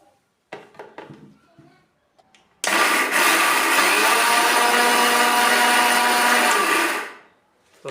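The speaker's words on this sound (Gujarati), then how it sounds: "તો આ વસ્તુને આપણે હવે મિક્સરમાં રફલી ગ્રાઇન્ડ કરી લઈશું" A mixer grinder coarsely grinds coriander seeds and fennel seeds for Kathiyawadi raita marcha, a loud, steady whirring roar running about four seconds before cutting off, preceded by a few short knocks and brief talk.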